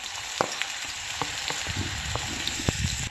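Onions frying in hot oil on an iron griddle, a continuous close sizzle broken by occasional clicks and scrapes of stirring.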